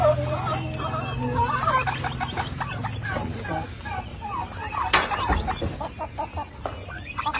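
Several brooding turkeys call together nearby, a busy run of gobbles and clucks overlapping one another above a steady low hum.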